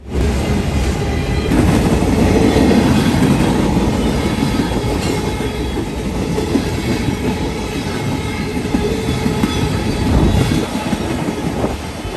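A CSX freight train passes with an ES40DC locomotive second on the head end and a distributed power unit further back, producing a loud, continuous rumble with rhythmic clickety-clack of wheels over rail joints and no talking.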